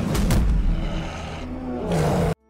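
Big cat roar from a film scene of a tiger attacking a wolf, a loud, close, rasping roar lasting about two seconds before cutting off abruptly.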